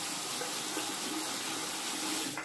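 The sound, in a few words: water running from tap to wet a safety razor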